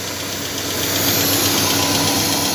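A Dodge Caravan engine idles with a MAP sensor fault, a steady, close, loud mechanical hum with faint knocking and a constant whine, swelling slightly after the first second.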